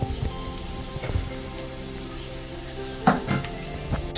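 Spice powders hit a hot pan of pork for biryani, and the steady close sizzle and frying crackle continue with a few stirring clinks and scrapes.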